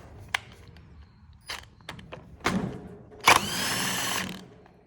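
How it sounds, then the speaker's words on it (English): Spinning a nut off during corn head maintenance yields scattered clicks and short mechanical rattles, then a louder sustained whirring burst at close range. "Just take and spin that nut off."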